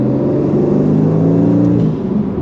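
The Mercedes-AMG V8 engine of an Aston Martin Vantage F1 Edition drones loudly and steadily, its low rumble rising slightly in pitch as it revs, then easing off toward the end.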